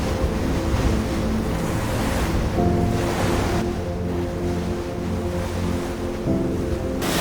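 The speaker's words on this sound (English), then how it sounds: "The sound of waves crashing against the cliffs" Waves surge and crash continuously against cliffs in the Faroe Islands with a roaring wash, mixed with wind buffeting and the low drone of a boat engine.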